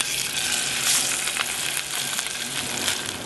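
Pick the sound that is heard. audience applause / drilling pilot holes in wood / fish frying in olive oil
fish frying in olive oil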